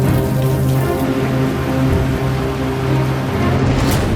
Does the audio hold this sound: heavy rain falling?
yes